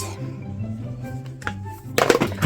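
A cosmetics palette shaped like a book is dropped and lands with a short clattering thunk near the end, close and fairly loud after a quiet stretch of room noise.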